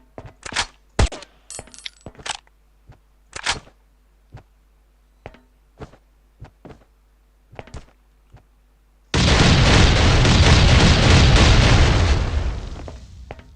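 Oil bomb explosions in the survival game Last Island of Survival: a string of sharp, separate blasts and bangs, then one loud sustained roaring burst that fades after several seconds.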